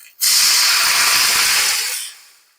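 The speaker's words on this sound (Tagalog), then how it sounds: "tapos lagyan natin ng tubig guys" Water is poured into a hot pan of fried fish and erupts into a loud, sudden, steamy sizzle that holds for nearly two seconds and then fades away.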